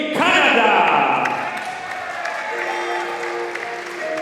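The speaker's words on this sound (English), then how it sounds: "Nice round of applause here for Erdi, Canada of Turkey." Crowd applause and cheering at a K Hero Series 2019 kickboxing event in London, rising loud as a fighter from Turkey is introduced, then easing into a steadier clatter with some tonal ringing underneath.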